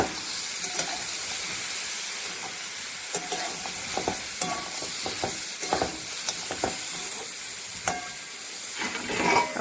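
Vegetable curry fries in a pan while being stirred, with a continuous sizzle and repeated scraping strokes of the spatula coming at an irregular rhythm, close and clear.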